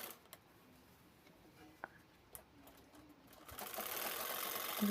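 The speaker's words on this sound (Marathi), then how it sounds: "खालचा आणि वरचा कपडा एकत्रित शिवून घ्यायचं आहे" A sewing machine stitches the top and bottom fabric layers of a baby quilt together. It starts quiet with a few faint ticks, then swells into a steady whirring run near the end, with no talking.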